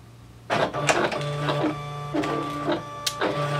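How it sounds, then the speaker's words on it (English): Silhouette Cameo cutting machine running a double cut on material, with a whirring motor and a steady tone broken by several short bursts of clattering movement, close up. "I'm going to go ahead and send this to the Silhouette."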